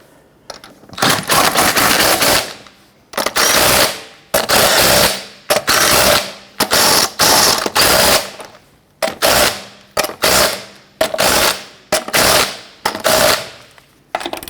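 Loud bursts from an impact wrench spinning lug nuts down on a 1999-2004 Jeep Grand Cherokee wheel, a dozen or so rattling hammering runs separated by short pauses.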